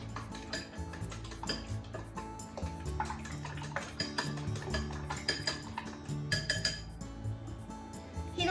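A utensil stirs mirin, soy sauce, hondashi, salt and sugar in a small dish, giving repeated light clinks and taps against the container in an irregular rhythm, close and fairly quiet.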